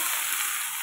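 Potatoes and pointed gourd fry in a pan with a brief, steady hiss of hot oil, quiet and close, no voices.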